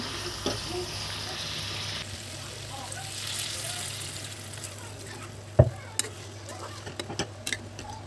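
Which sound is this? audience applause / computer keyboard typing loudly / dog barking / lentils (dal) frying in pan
lentils (dal) frying in pan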